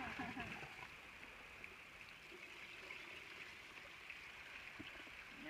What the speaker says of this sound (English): All this running water.